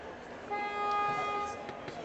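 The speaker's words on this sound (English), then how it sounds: "Keeps honking the horn." A horn honking at an indoor boat show, with a sustained tonal blast over a busy crowd murmur and some voices nearby.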